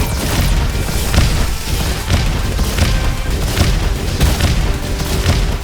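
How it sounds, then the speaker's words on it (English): Rockets launched while sliding in the Roboquest video game burst in front of the player in a dense, continuous barrage of loud booms, each blast overlapping the next with a steady pounding rhythm. "every time I slid, it launched 3 rockets in front of me"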